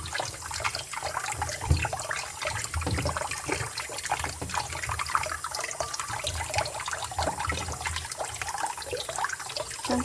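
Tap water runs steadily over pork belly being washed in a sink, a continuous close splashing and trickling with small bumps of handling, no talking.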